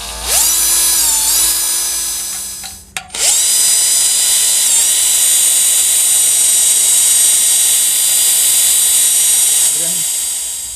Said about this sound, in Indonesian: Langsung saja kita bor di area tadi yang kita titik ya bro ya.